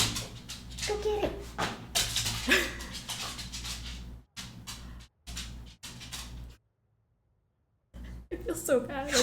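A puppy playing fetch gives short barks and whimpers amid a person talking, with abrupt bursts of sound broken by a stretch of total silence.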